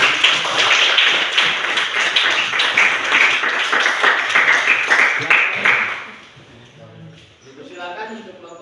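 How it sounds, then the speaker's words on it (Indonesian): Classroom applause for the first group after their discussion presentation, a dense, steady burst of many hands clapping that fades out after about six seconds into quieter room sound. "Tepuk tangan dulu untuk kelompok 1."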